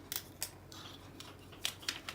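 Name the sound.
scissors being handled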